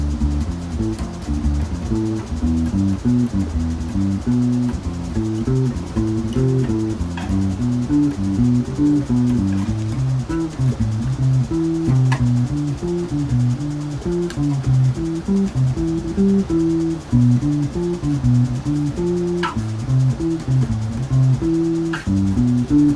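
Bass guitar playing arpeggios up from root to octave and back down, a continuous, loud, close run of stepping low notes in a steady rhythm, with no talking.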